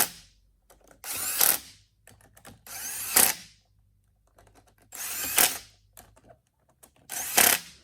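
Power tool spinning bolts into a VW Vanagon 010 automatic transmission, four loud whirring bursts about a second long separated by quiet gaps with faint clicks and handling noise, close by.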